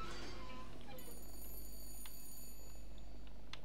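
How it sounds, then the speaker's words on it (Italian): A telephone in the video game BioShock Infinite gives a bright, metallic bell-like ring lasting a second or two over a low, steady background hum, followed by a few faint clicks. "Ah, il telefono."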